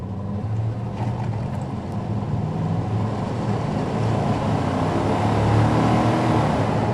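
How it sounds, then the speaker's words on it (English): A 1996 GMC K1500 Z71 pickup with a Vortec 350 V8 and factory exhaust on a test drive, a steady low engine drone mixed with road and wind noise from inside the cab, constant and fairly loud throughout. "Factory exhaust sounds good."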